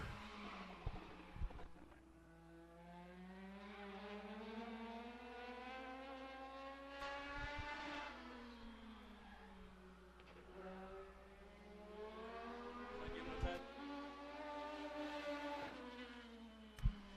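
Race cars lap Madera Speedway during Legend Series qualifying. Engine notes rise and fall as the cars pass, and a steady roar continues throughout the run.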